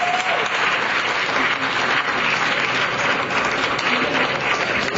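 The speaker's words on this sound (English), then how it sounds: "If you can join me in giving them a round of applause" Full, steady applause from an audience at a student debate between college Democrats and Republicans at George Mason University, loud and continuous throughout, with voices faintly mixed in.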